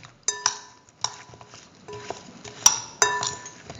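A spoon clinks and scrapes against a bowl while mixing an eggplant and potato mixture with spices, giving a series of sharp bright taps spaced irregularly, close and fairly loud with no talk.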